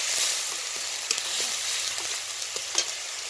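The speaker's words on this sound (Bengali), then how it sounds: "দিয়ে ভালো করে মশলাটা আমি ভালো করে ভাজবো" Onion paste and spices fry in hot oil with bay leaves and dried red chilies, a steady close sizzle with occasional soft stirring clicks, no talking.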